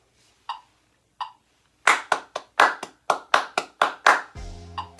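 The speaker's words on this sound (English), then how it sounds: "A good thing I like to do is, it's a little basic, but I like to clap." Sharp, close hand claps from a trombone masterclass: two isolated claps, then a quick run of crisp claps in a steady triplet pattern, ending with a brief sung or hummed tone.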